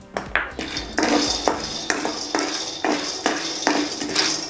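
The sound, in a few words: peanuts being added to a pan for roasting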